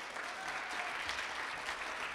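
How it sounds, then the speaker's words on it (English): A church congregation applauding during a morning service, steady dense clapping from many hands, moderately distant and continuous throughout. "give Dean a big round of applause this morning"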